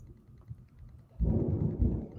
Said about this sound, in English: Let me have that thunderstorm.